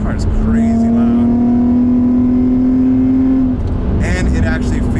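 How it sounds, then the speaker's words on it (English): A modified Infiniti G35 engine rumbles loudly in a steady, sustained rev for about three seconds, then eases off to a lower idle. A few voices come in near the end. "The sound is actually very similar, except for the turbos, but this car is crazy loud"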